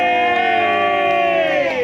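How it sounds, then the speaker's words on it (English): A crowd at a UKIP political gathering cheers loudly, with sustained shouting and whooping voices held steady throughout rather than distinct clapping. "round of applause for Miss Kent"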